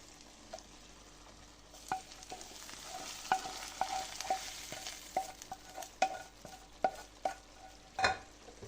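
A spoon stirs beans coated in melted butter in a pot, giving soft sizzling and a series of sharp scraping clinks at irregular intervals, quiet and close.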